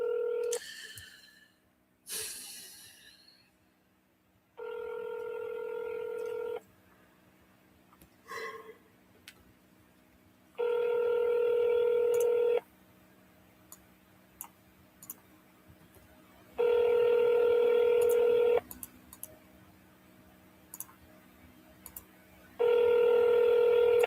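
A telephone dials out, with a few quick keypad beeps and clicks at first, then repeated ringback tones in even two-second bursts separated by quiet gaps.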